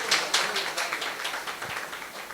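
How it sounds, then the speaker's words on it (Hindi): An audience claps in approval at a Bundeli monsoon folk song competition in Madhya Pradesh, a quick patter of scattered hands over a couple of seconds, fairly faint and somewhat distant. "आपकी सहमति हो तो ताली बजाइए।"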